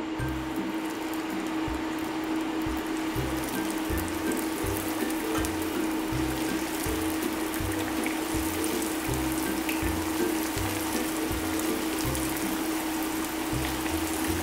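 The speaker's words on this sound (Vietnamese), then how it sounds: "khi dầu đã sôi, đã nóng, các bạn phải chiên cà ở mức lửa lớn nha" Eggplant frying in hot oil over high heat, a steady, dense sizzle with a low hum and rhythmic background clatter, continuous and close throughout.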